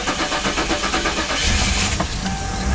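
A former police car from a government auction starts after a jump-start boost: rhythmic cranking pulses give way to a steady, loud idle near the microphone, with no talk.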